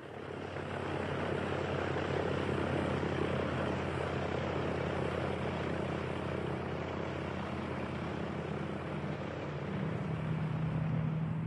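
World War II bomber aircraft, fully loaded with bombs and fuel, taking off one by one: a steady, loud propeller-engine drone that holds throughout, with a deeper engine tone emerging near the end.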